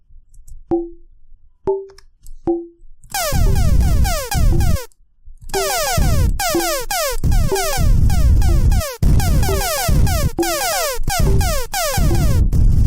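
Asteroids-style arcade game effects from a JavaScript remake of the 1979 Atari game: a few spaced blips, then a loud, dense run of rapid laser zaps, thrusts and explosion bursts with no talking.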